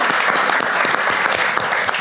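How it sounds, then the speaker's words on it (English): A large crowd gives a dense, loud round of applause for the local speakers at a closing event, the clapping continuous and close. "You can give them a hearty round of applause to the local speakers."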